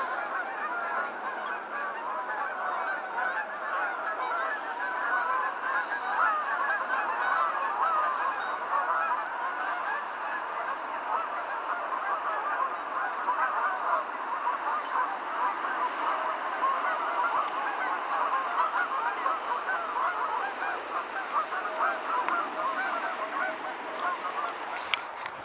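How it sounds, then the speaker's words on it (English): A large flock of geese honks continuously, a dense chorus of overlapping calls that carries on steadily throughout without pause. "Here comes a few geese."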